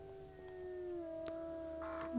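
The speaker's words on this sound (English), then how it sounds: "I love your nice howl too." A wolf in the video game WolfQuest gives a drawn-out howl with a sliding, sustained pitch, moderately loud over a faint background.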